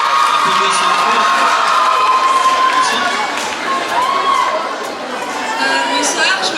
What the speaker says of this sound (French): Applaudissements sur le cours